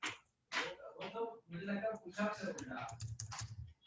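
Computer keyboard keys pressed while writing Python code during a class lecture, a string of clicks and taps mixed in with someone talking over them.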